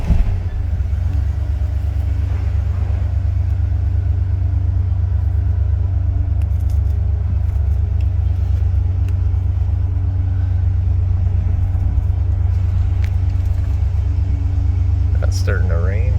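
A Ford Bronco engine idles high with a steady low rumble. It holds constant and fairly loud for the whole stretch, with faint background noise on top.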